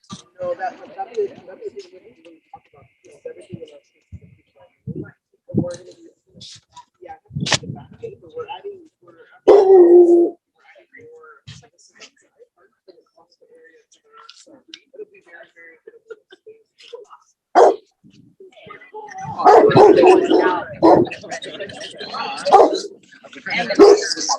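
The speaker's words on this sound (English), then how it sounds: "this is the dog" Dog barking in a dog area at an outdoor festival site, scattered barks and yips spread through a long stretch, some near and loud, some faint, with people talking in between and over them.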